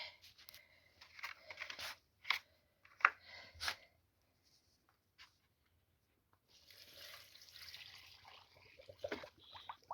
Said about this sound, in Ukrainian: Зараз добавлю ось цю добавку, щоб вони краще неслися, так залю водою